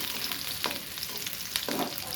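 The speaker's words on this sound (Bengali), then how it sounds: "পেঁয়াজগুলো ভালো করে ভেজে নিচ্ছি" Onions frying in oil in a pan, a soft steady sizzle with a few stirring scrapes, fairly quiet and without speech.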